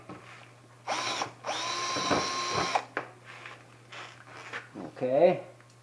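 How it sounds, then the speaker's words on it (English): A power drill bores 5/16 holes for bolts in an enclosure for a 2014 Yamaha Viking, in two long whining bursts with shorter bursts after, and a voice speaks between them. "Carefully drill them"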